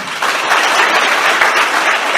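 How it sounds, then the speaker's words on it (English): Large group of first-year engineering students clapping together at an orientation session, a dense, loud, continuous wash of applause. "One more chance for you to prove that you can do clapping better."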